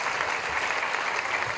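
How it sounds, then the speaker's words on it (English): An audience gives a round of applause at a government announcement of a Harlem Schomburg renovation project: a brief, even wash of many hands clapping, steady and moderately loud. "Let's give a round of applause for Iris, recognize her."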